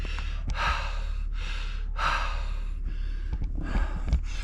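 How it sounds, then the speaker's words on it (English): A person breathes hard after walking uphill in the Mojave Desert, with heavy rhythmic gasping inhales and exhales repeating about five times, close to the microphone with no talking. "Because I'm breathing hard."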